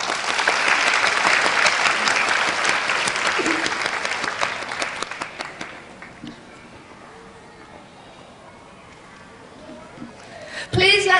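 Audience at a children's achievement awards ceremony in Box Hill applauds loudly for several seconds, the clapping thinning and fading into a quiet hall before a brief final burst of sound.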